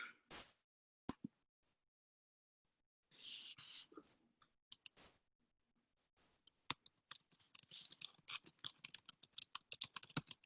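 Computer keyboard clicking as people type in a chat, scattered keystrokes and pauses building into rapid, steady typing, close and fairly quiet.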